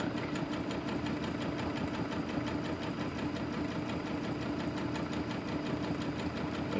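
A sewing machine runs steadily through free-motion quilting, its fast rhythmic stitching whirr holding close and even from start to finish with no pauses.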